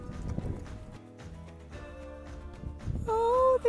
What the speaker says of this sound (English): After 3 days spent horse riding